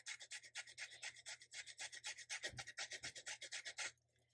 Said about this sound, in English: So I'm going to get some lemon zest. I have a little mini zester here.